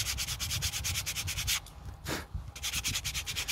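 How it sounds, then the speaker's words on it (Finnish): Coarse 80-grit sandpaper rubbed briskly over hardened calluses on the hands, a close, steady rhythmic scratching in repeated strokes with a brief pause midway, with no talking. "perinteinen 80 hiomapaperi ja ei muuta kuin"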